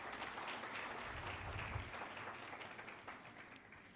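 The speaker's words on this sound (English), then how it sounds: "So a huge round of applause for Dr." An audience at a faculty leadership panel claps for a retreat team, producing a soft, fairly distant wash of applause that stays steady for a few seconds.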